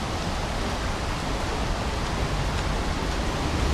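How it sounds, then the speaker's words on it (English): Torrential flash flooding pours down as waterfalls, a dense, constant rushing roar at close range that holds steady from start to finish, with no speech. "there is absolute torrential flash flooding waterfalls"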